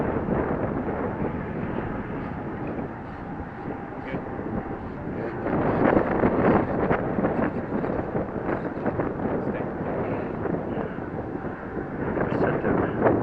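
Strong gusting wind buffets the microphone as a loud, continuous roaring rumble that swells and eases over several seconds at a model airfield, with talk partly lost beneath it.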